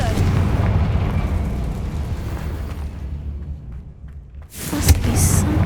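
A Confringo fire spell in Hogwarts Legacy bursts into a deep, rumbling explosion that rolls on and slowly dies away, then a sharp crackling blast hits near the end.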